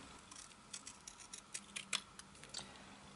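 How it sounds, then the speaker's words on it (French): Several quiet, crisp snips of scissors cutting a paper stamp in two, irregularly spaced and close by in an otherwise quiet room. "Maintenant je vais couper le tampon en deux parties."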